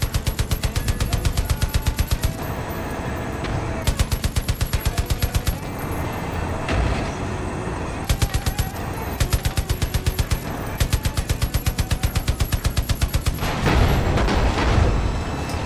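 Rapid automatic gunfire rattles in Far Cry 5, loud and close, coming in repeated bursts of a couple of seconds with short gaps between them and a heavier blast near the end.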